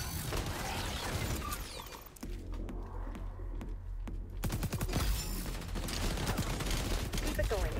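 Dense, rapid gunfire from the shooter video game XDefiant crackles almost continuously, with bursts of automatic fire and sharp single shots, loud and close, easing briefly midway before resuming.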